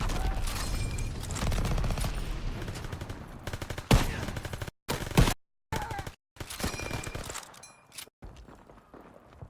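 Sustained WWII-era gunfire in the Call of Duty WW2 video game, with dense rapid bursts and machine-gun rattle, then choppy shots broken by abrupt silent gaps and scattered impacts.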